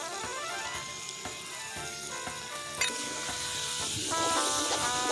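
Onions, shallots, green chillies and tomatoes sizzle steadily in a wok for a Kuttanadan duck egg roast masala, with a brief sharper clatter of stirring midway; close, continuous frying with no talk.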